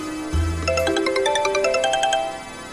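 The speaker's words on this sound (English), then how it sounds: "Oh, I got a phone call from someone." A phone ringtone for an incoming call plays a bright, repeating melodic chime, loud and close, starting after a brief low thump and continuing steadily for a couple of seconds with no talk over it.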